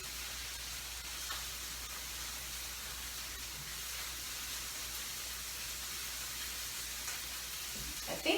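Onions frying in a pan, a steady faint sizzle and hiss running unbroken, with a small clatter near the end.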